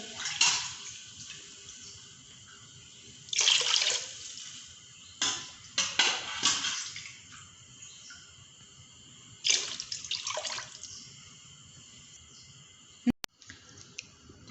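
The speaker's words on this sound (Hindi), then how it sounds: "इसमें 4 गिलास पानी डालेंगे।" Water, measured out by the glass, is poured into a cooking pot holding soaked rice for pulao, arriving in several separate splashing bursts with quiet pauses between them, followed near the end by a faint metallic clink.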